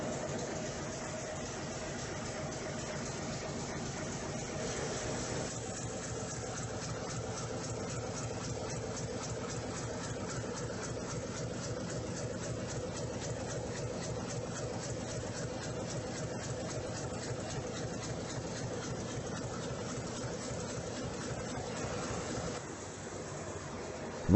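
A large Worthington diesel generator engine, a 5 MW unit in a power station, runs with a steady, dense mechanical drone and rapid rhythmic pulsing, unbroken and even throughout with no voices.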